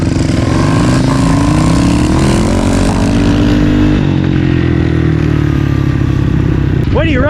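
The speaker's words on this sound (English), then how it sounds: "Here is the electric RAR dirt bike versus the TTR 130." An electric RAR dirt bike races a Yamaha TTR 130 dirt bike at full throttle, a loud close engine drone that holds steady and then shifts pitch as the bikes pull away.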